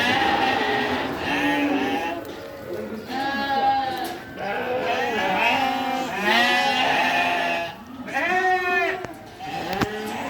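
Sheep and lambs bleating at feeding time, a crowded chorus of overlapping wavering bleats from several animals close by, continuing steadily with short gaps, a sharp knock near the end.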